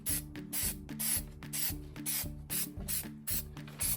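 Nissan Xterra Pro 4X emblems are coated in Plasti Dip from an aerosol can, heard as a rhythmic run of short, close hissing spray bursts, about eight in quick succession, with no talk.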